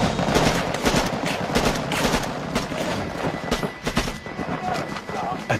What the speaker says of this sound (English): At the sound of gunfire, the rest of the team scattered.